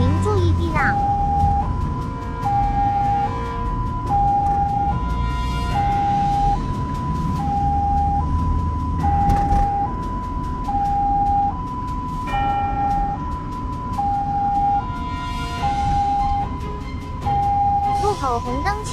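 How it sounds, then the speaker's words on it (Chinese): An emergency ambulance sounds its two-tone siren, alternating steadily high and low, while driving through morning rush-hour traffic in China. The wail is loud and continuous over engine and road rumble, with a voice occasionally speaking over it. "后方有救护车经过，请您注意避让。"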